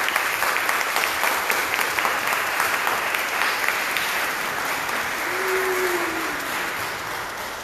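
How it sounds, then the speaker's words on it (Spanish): An audience gives sustained applause at a Catholic school graduation ceremony following a Mass, steady dense clapping that slowly fades toward the end, with a faint tone sounding briefly midway. "a quienes le damos un fuerte aplauso."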